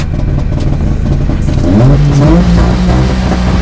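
A rare retro car engine revs up with a rising whine, loud and close, holding steady over a continuous low rumble.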